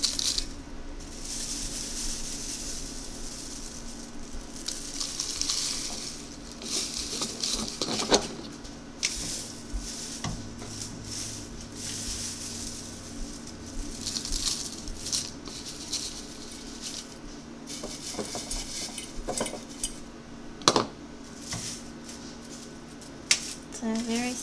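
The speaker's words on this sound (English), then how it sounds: "I'm just going to scoop these up and put them in my" Dried leeks scooped up and tipped into a jar: soft, scattered rattles and dry clinks with a few sharper taps, heard close and quiet over a low background hum.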